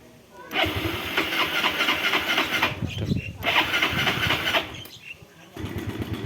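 A Yamaha Mio scooter engine cranks and catches twice, each start settling into a loud, rough idle before cutting out, then starts a third time at the end.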